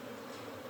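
Swarm of escaped honeybees buzzing, a steady droning hum, faint and continuous.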